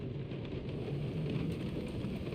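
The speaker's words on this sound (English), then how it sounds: "It had to be raining." Steady rain on the alien planet Seknarf 9 in Marvel's Guardians of the Galaxy video game, a dense continuous downpour hiss with low rumbling underneath, moderately loud and unbroken throughout.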